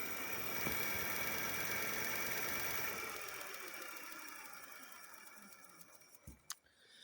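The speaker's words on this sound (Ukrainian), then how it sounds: "Підсвистує, щось як треться десь, а де саме не зрозумію." A Minako V12 Lux 60V electric bike's motor spinning at idle with no rider, giving a steady whirring hum with a whistling, rubbing edge that slowly fades, then a few faint knocks near the end.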